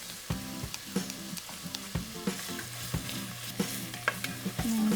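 Carrots and celery fry and sizzle in a pan while being stirred for turkey bolognese, with steady close sizzling broken by repeated scraping stir strokes and clinks throughout.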